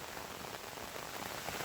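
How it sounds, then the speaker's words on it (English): Steady rain falls on a farm field, a dense continuous hiss of drops on surfaces, close and unbroken, with no voices. "The rain come down."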